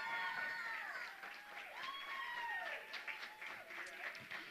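An audience at a university startup demo day cheers for a winning team, with sustained applause under rising and falling whoops and whistles that carry through the whole stretch at steady, fairly loud volume.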